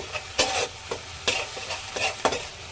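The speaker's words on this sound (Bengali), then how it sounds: "এবার আমি রসুন থেতো করা দিচ্ছি, দিয়ে আবার আমি একটু ভাজবো" Crushed garlic sizzles in a hot pan while a utensil scrapes and stirs in quick, irregular strokes.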